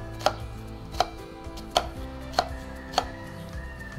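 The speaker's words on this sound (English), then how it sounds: "cut it thinly." A knife chops onions thinly on a board in five crisp, evenly spaced strikes, close and clear with no voices.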